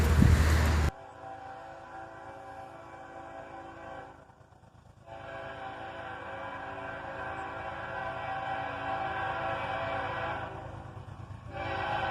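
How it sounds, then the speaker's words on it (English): A CSX autorack freight train draws closer with a steady rumbling roll and a sustained horn blast, fairly loud throughout with a brief dip midway. "It was another autorack train, coming right up behind the first autorack train"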